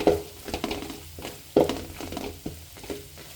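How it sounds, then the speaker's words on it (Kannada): Byadgi chillies frying in oil for North Karnataka garlic mandakki, with close sizzling and a couple of sharp stirring scrapes in an uneven rhythm. "ಬ್ಯಾಡಗಿ ಮೆಣಸಿನ್ಕಾಯಿ ತೊಗೊಂಡಿದ್ದೀನಿ ಅದನ್ನು ಎಣ್ಣೆಯಲ್ಲಿ ಫುಲ್ಲು ಫ್ರೈ ಮಾಡ್ಕೊತೀನಿ"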